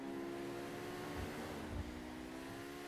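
Overflod electric sports car in GTA 5, its synthetic engine note a steady layered hum that pitches down slightly midway, with low thumps underneath; continuous and fairly close, no voices.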